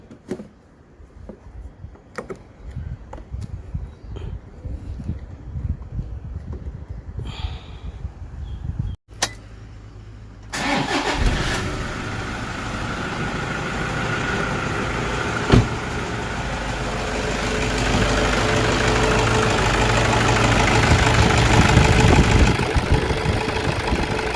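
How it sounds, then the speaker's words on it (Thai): A car engine cranks and catches after a timing belt change and battery terminal reconnection, settling into a steady idle; quieter workshop clinks come first, then the running engine drones on close by. "ประกอบขั้วแบตเราจะสตาร์ทให้ดู"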